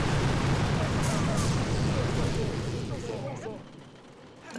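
Explosions blow up base defenses in Boom Beach, a dense, roaring wash of blasts and rumble that holds loud, then fades out near the end, with a voice talking over it.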